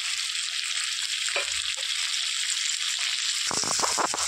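Broad beans frying in a pan for a mixed vegetable curry make a steady, moderate sizzle, and a burst of stirring and scraping comes toward the end.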